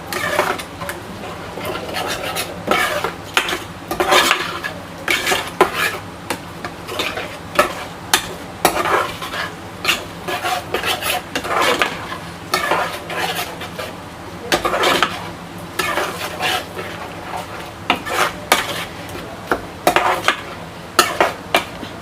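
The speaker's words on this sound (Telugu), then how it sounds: "పెరుగు మంచిగా మొత్తం ఉల్లిపాయలకు మిక్స్ అయ్యేలా కలుపుకుంటున్నాను" Spoon scraping and stirring yogurt through onions in a cooking pot for onion biryani, continuous clattering metal-on-pot strokes, loud and close, with no voices.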